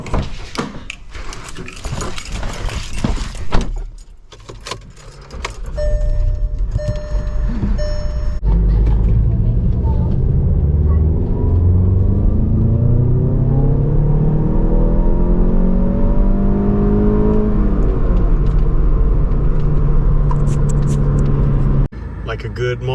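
A Jeep Cherokee XJ pulls away and drives on a road trip to the hardware store. Its engine rises and shifts through gears for more than fifteen seconds in a continuous interior drone, after a brief stretch of talk and clatter at the start.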